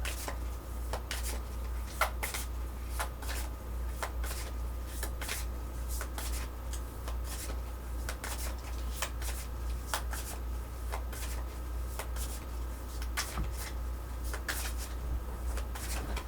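Tarot cards being handled and turned upright, a series of soft, irregular card flicks and slides over a steady low hum, no voices.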